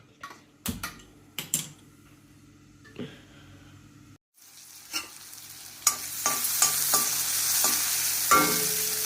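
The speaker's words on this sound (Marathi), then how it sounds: "पालक भाजला आहे चांगला." Spinach stirred and frying in a pan for a spinach and green gram curry, with scattered scraping clicks and knocks that build into a steady, close sizzle in the second half.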